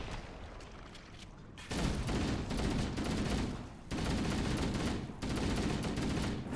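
Dense, loud gunfire from the video game Halo Combat Evolved, sustained bursts filling most of the moment with brief dips between volleys, no talk over it.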